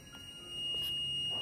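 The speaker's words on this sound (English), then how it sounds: "you can see the buzzer beep sound" Multimeter in continuity mode buzzing while testing a shorted capacitor on a smart TV board, a thin steady high beep held continuously for over a second, close and fairly clear over faint background hiss.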